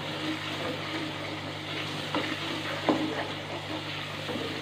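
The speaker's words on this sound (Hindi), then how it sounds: "तो अब हम इसमें जो है वो स्पाइसेस डालेंगे और इनको जो है हम 1 से 2 मिनट तक जो है पकाएंगे" Spices fry in a pan with potato and cauliflower for aloo gobi, giving a steady, close sizzle with a few soft stirring knocks and no voices.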